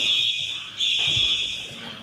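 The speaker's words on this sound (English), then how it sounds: "Alarms at Springfield Middle School blared Thursday as first responders assessed the damage" School fire alarms at a middle school blare after a tornado, a steady high-pitched electronic tone sounding continuously with a brief dip partway through, loud and close, no talking.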